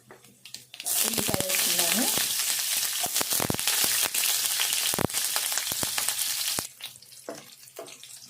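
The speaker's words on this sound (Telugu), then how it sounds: "ఈ ఉల్లిగడ్డ మొత్తం ఇట్లా వేగాలి" Onions hit hot oil in a pan for ivy gourd fry and burst into a loud, dense sizzle that holds for several seconds with stirring clatter, then drops away abruptly; a voice speaks briefly around it.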